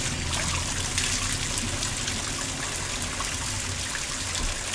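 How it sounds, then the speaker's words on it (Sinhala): A clean natural stream in the Nuwara Eliya countryside flows with a steady, loud, close rush of water that continues without pause or speech. "පිරිසිදු වතුර පිරිසිදු වතුර ස්වභාවික පිරිසිදු වතුර එන්නේ."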